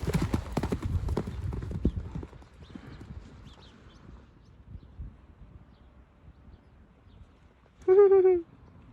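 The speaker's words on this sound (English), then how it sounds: "Look at the size of his canter." A horse canters close by in a rapid run of clip-clopping hoofbeats outdoors, fading into quieter rustling steps, with a short loud whinny near the end.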